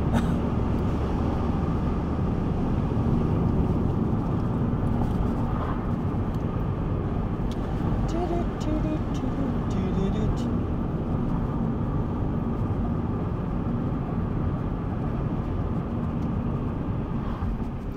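Steady broadband road rumble of a car speeding up on a road where another vehicle overtakes across a solid line, continuous and fairly loud with no clear engine pitch rise, heard from inside the vehicle.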